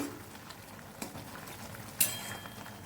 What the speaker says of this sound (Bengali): আমার সেদ্ধ প্রায় হয়ে এসছে, আর 1 মিনিট হলে পুরোপুরি সিদ্ধ হয়ে যাবে।